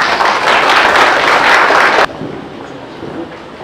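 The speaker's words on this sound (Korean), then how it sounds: "큰 박수로 맞이해 주시기 바랍니다." A symposium audience welcomes a speaker with loud, dense clapping that cuts off abruptly after about two seconds, leaving a quiet room hush with faint residual noise.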